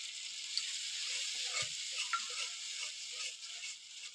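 Yogurt going into a spice mixture frying in a pan gives a soft, even sizzle with a few light clicks of stirring, quiet and without talk.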